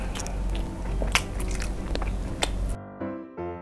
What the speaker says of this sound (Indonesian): Kalian dengerin kriuk dari sosisnya.